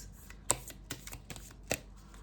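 Tarot cards being shuffled for a reading, soft papery riffles and flicks with two sharper snaps, quiet and close, no voices.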